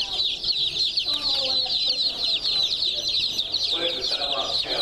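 Cornish Rock meat chickens cluck and chatter continuously as a dense flock at close range, with a steady high chirping bed from chicks and occasional louder clucks throughout.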